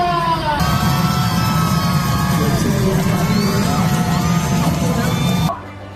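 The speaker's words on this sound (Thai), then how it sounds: "ขอเสียงปรบมือดังๆอีกครั้งหนึ่งค่ะ" Audience at a Thai Department of Medical Services award ceremony for the 2025 Public Sector Excellence Awards applauds loudly and continuously with whoops and cheers for about five seconds, then it cuts off abruptly.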